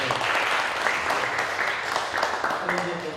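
Applause from a congregation at a Korean missionary society's thanksgiving service, moderate and continuous, with some voices mixed in underneath.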